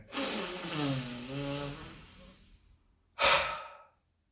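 Slow, audible breaths taken during a breathing-form exercise: a long drawn exhale that fades away, a brief pause, then a sharp, loud inhale, close up and alone.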